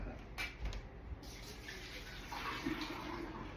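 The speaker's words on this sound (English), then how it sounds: "Ooh, that water's hot. You just pour it on out." Hot water poured out from a pot while cooking vegetables for pasta sauce, a steady watery pouring and splashing rush lasting several seconds, moderately close.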